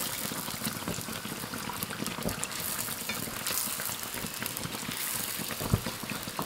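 Youtiao dough sticks deep-frying in hot oil, turned as they puff up: a dense, continuous sizzle and crackle of bubbling oil, steady and close with no voices over it.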